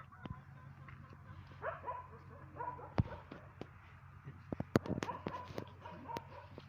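Dogs bark in short sharp bursts at moderate distance, scattered irregularly over a quiet outdoor background near a chicken yard, with occasional faint whimpers.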